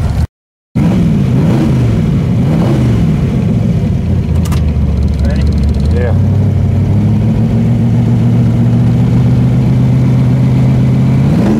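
A twin-turbo Chevrolet S10 engine fed by a rebuilt carburetor runs loud and close, revving through several rising and falling swells before settling into a steady, droning idle.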